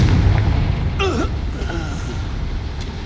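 A Confringo fire-blast spell erupts in the Hogwarts Legacy video game with a loud whooshing burst and swirling magical tones, followed by a fainter second flourish over a steady rumbling game background.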